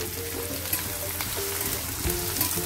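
Onion sizzles in hot ghee with green chillies in a pan, a soft steady crackle and spatter at moderate level, no voices.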